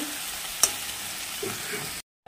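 Spice paste (masala) sizzles in a wok for a vegetarian flat bean curry, a steady close fry with a sharp clink of a utensil early on, cutting to silence near the end.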